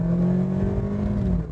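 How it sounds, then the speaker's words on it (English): A 2012 Toyota Yaris engine straining as it accelerates, a steady, loud droning hum with a rising tone, close and continuous. "The engine noise doesn't sound that nice"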